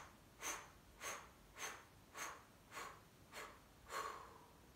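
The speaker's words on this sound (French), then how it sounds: "petites expirations par la bouche comme ceci" A series of seven short, breathy exhalations pushed out through the mouth during a guided breathing exercise, evenly spaced about half a second apart, soft and close with no talking.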